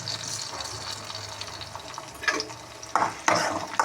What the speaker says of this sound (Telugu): కొన్ని ఆవాలు కూడా వేసుకుందాం ఫ్రెండ్స్